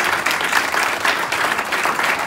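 Audience applause at a community awards ceremony as a winner is called up, a steady loud wash of clapping sustained throughout with no break.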